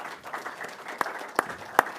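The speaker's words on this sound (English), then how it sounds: "now I would like to invite the President of Latvian Volleyball Federation with your applause, Mr. Egils Lapsalis." Audience applause at the CEV BeachVolley Nations Cup Final 2024 drawing of lots, welcoming the Latvian Volleyball Federation president to the stage: a steady, moderate patter of many hands with a few sharper claps standing out near the end.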